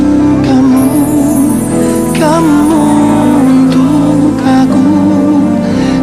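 A loud pop song plays continuously, with a sung melody over full instrumental backing.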